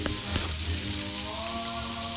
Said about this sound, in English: While this is simmering on a lower heat